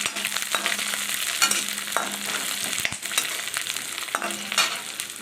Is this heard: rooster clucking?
no